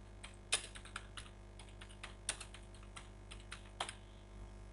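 Quiet, close keystrokes on a computer keyboard tap out an irregular rhythm of separate clicks, with a few heavier strikes standing out over faint background hum; no voices.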